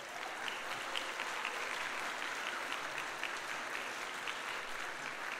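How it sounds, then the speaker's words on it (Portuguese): A church congregation applauds steadily at an Adventist service, a continuous, even wash of many hands clapping, moderately distant and fairly quiet, with no talking over it. "Uma salva de palmas às nossas mães."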